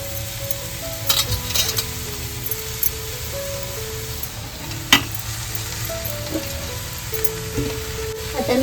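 A wild leafy vegetable frying with chili masala and turmeric in a pan, a continuous close sizzle with several sharp utensil clinks and stirring scrapes, no talk.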